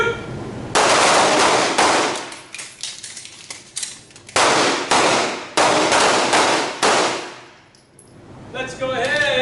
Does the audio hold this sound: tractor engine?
no